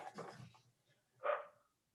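A dog gives one sharp, fairly close bark after a moment of people talking indoors, then quiet returns.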